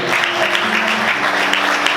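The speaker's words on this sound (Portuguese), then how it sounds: "Você pode aplaudir Jesus?" A church congregation claps together in a steady, dense burst of applause that fills the short moment evenly, with no voices standing out.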